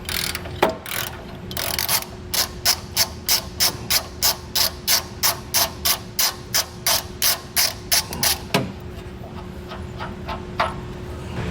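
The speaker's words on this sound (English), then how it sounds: "I'm just going to be using my ratchet to get to it here" A hand ratchet loosens an 18mm bolt from the front tow hook of a 2019 Chevrolet, giving a long run of rapid, evenly spaced clicking strokes, close and clear, with a few heavier knocks at the start and near the end.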